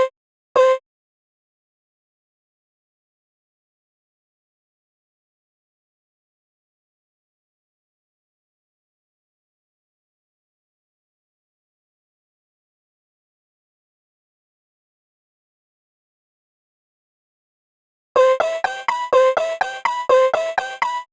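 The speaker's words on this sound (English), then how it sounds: "Watch as I quickly create a nice ARP pattern from a basic vocal one-shot sample." An arpeggio built from a basic vocal one-shot sample: a brief pair of plucky notes at the start, a long silence, then a fast, even run of bright stepping notes that continues to the end.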